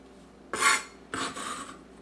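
Knife chopping fresh cilantro on a cutting board: two bursts of brisk, close scraping cuts separated by a short pause, no voices.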